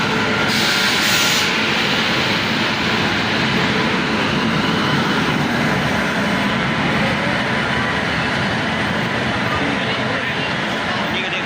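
A train rumbles past close by in a steady, loud, continuous roar that holds for the whole stretch, with a brief hissing rise near the start and a voice faintly audible under it.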